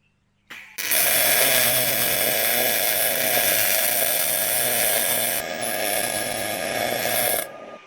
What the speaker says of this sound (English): So now we need to weld up the clamp.